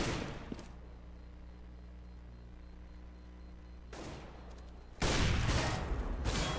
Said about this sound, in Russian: Так, выстрелил Фетиш на зуме врага.